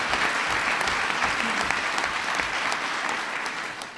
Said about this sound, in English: please give her a round of applause on behalf of Bob Dole